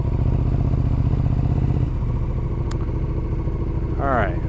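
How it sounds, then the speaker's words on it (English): A motorcycle engine runs loud and close with a steady low rumble throughout, shifting pitch partway through, while a person talks over it. "Oh, this bike is a menace. Disturbing the peace, baby."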